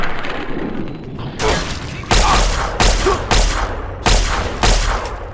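Gunfire in Fallout 3 during VATS targeting: after a quieter stretch, a series of loud, sharp reports lands at irregular intervals of about a second, each with a heavy low thump and a bright crack that trails off.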